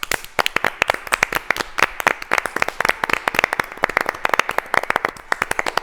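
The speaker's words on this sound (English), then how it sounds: "Give yourselves a round of applause." A group applauds with brisk, continuous hand clapping that stays steady and lively throughout.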